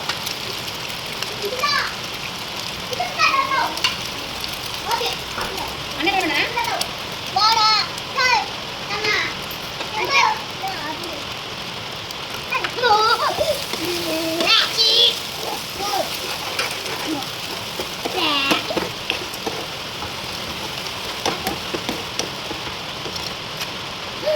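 A steady wash of rain falls throughout while children chatter and call out nearby in a lively, continuous mix of voices.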